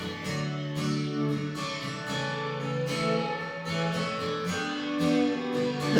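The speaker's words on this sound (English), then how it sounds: "I don't know what you call that, a flanger." Electric guitar chords through a SikTone Space Invader pedal set to a flanger effect, strummed repeatedly with a sweeping, swirling tone. The playing is steady and fairly quiet, with no voices.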